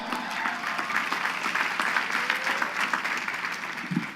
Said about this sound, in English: yes, you can clap to that